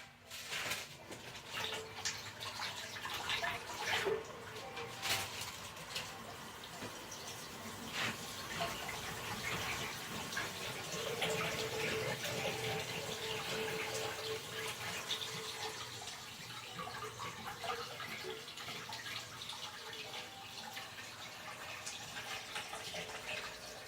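Tap water runs steadily into a sink while a plastic piece is rinsed, a continuous close splashing gush with small shifts as the item moves under the stream, no talking.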